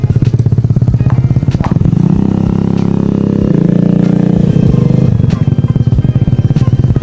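Suzuki Burgman Street 125 scooter fitted with a full-system aftermarket muffler pulls away, its loud throaty exhaust pulsing up close, then rising in a brief rev and easing as it rides off.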